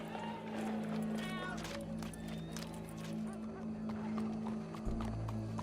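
Steady galloping hoofbeats from a horse in the video game Red Dead Redemption 2 run beneath a constant low engine-like drone, with voices murmuring faintly in the mix.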